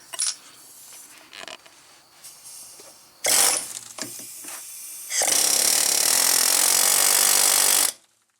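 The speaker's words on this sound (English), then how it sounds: "I'm just gonna whack on it for a little bit with this, and it ought to come out" Metal striking and working loose a wheel bearing on a Dodge Grand Caravan: scattered knocks and clanks, then a loud sustained grinding burst near the end, close and without talk.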